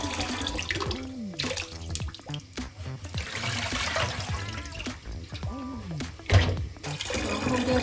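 Water runs and splashes into a pot of rice being set to soak for a beef yakhni pulao, a steady close trickling and pouring with clattering kitchen handling; brief speech-like sounds come through.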